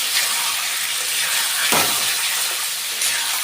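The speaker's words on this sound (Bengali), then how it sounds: "এবার যে ম্যারিনেট করা চিকেনটা আছে সেই চিকেনটা আমি দিয়ে দিলাম।" Marinated chicken frying in hot oil, a loud steady broadband sizzle and hiss throughout, close up, with a brief louder crackle midway.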